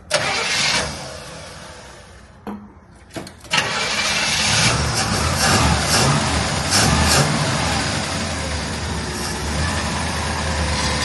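The engine of a 1964 Chevelle with a badly leaking fuel pump cranks and catches, then settles into a steady loud idle up close after a brief stumble.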